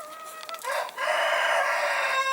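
A young Denizli rooster in a coop in Antalya gives a single long, drawn-out crow, starting with a short rising note and then holding a loud, sustained call close by.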